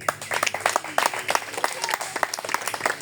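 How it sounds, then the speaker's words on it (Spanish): A church congregation gives a strong round of applause for Christ, with dense, lively clapping from many hands filling the room, fairly close and with no talk over it. "la iglesia brinde un fuerte aplauso a Cristo"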